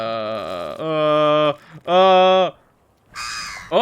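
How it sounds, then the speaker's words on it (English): Harsh, loud bird caws from a visual novel video game about alien nature, three or four drawn-out tonal calls in quick succession separated by short pauses. "It's a bird."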